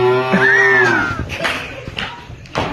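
A boy imitates a buffalo's moo with his voice, one long, loud, drawn-out lowing call followed by faint shuffling noises from a group of schoolchildren nearby.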